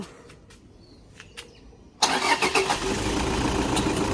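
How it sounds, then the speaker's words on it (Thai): A car with an amber warning light on starts up after a few quiet clicks and taps, its engine catching suddenly and then settling into a steady, close idle. "เสร็จแล้วเราสตาร์ทเครื่อง"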